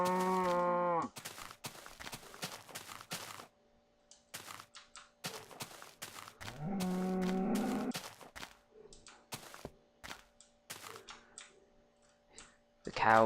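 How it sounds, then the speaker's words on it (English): A cow in a modded Minecraft game gives a few low, drawn-out synthetic moos, loud against quiet clicking and game effects, with someone talking between the calls. "The cow with the glowing udder."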